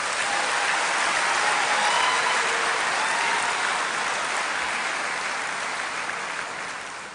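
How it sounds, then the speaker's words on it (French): Dense, loud applause from a hall audience at the inauguration of a financial centre in Kinshasa, a continuous wash of clapping that holds steady before gradually tapering off. "Je voudrais leur dire de les applaudir une fois de plus."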